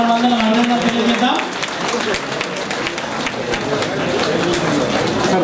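Audience clapping at a Women's Day felicitation meeting organised by TNGOs, honouring five women municipal workers: a sustained round of applause, moderately loud, with a voice talking over it at the start.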